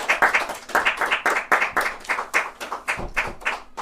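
Steady clapping from a crowd as fighters are welcomed to a live fight event, a continuous patter of many hands at a lively rhythm, fairly close and with no talk over it.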